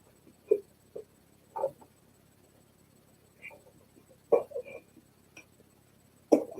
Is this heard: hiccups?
yes